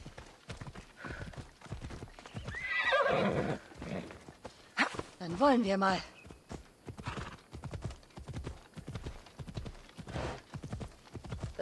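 Rhythmic hoof clip-clops sound throughout in Assassin's Creed Odyssey, with two loud horse whinnies near the middle and someone speaking briefly; the sounds have a clean, game-like quality.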